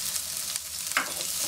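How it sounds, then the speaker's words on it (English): Onions sizzle steadily in hot oil in a frying pan while an Indian okra curry is cooked, with a brief stir or scrape flaring up about two-thirds of the way through. "Give it a quick mix before it starts sizzling everywhere."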